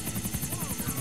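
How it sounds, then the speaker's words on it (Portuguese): Helicopter in the video game GTA: The Ballad of Gay Tony, its rotor beating in a steady, fast pulsing rhythm with a constant high whine above, loud and close throughout. "Esse helicóptero aqui é meio estranho de controlar, na verdade."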